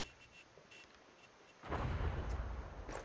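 After a quiet stretch, a muffled low boom erupts and rumbles for over a second, followed by faint scattered noises.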